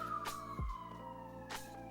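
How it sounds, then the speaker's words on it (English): New York City ambulance siren sounding at a distance, a steady tone held throughout, with a brief low thump partway through. "Thank you, New York City ambulances."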